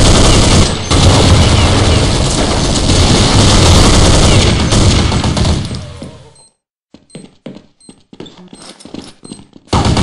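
Dense, loud automatic gunfire from Counter-Strike on the Chateau map, rattling continuously for several seconds before breaking into scattered, separate shots and silence.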